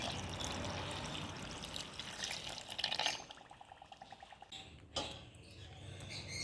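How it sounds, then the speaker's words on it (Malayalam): Two cups of warm water pour steadily into a grinder jar for a few seconds, then thin to a trickle with faint ticking, followed by one short splash. "2 കപ്പ് ഇളം ചൂടുള്ള വെള്ളം ഞാനിവിടെ അളന്നെടുത്തതാണ്, അതിവിടെ ഒഴിക്കുകയാണ്"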